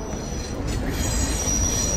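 A train at a station in Italy, with a loud, steady rumble of rail cars and a continuous high metallic wheel squeal running over it, close by and without any voices.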